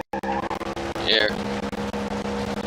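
A car engine held at high revs in third gear, around 9,000 RPM, gives a steady, buzzing drone throughout with a brief squeal-like burst near the middle.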